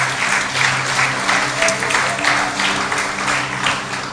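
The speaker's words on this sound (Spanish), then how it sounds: "Denle un aplauso al Señor en esta preciosa mañana" Church congregation applauding during a Holy Week morning service, loud dense clapping throughout with a faint musical tone underneath, steady and close.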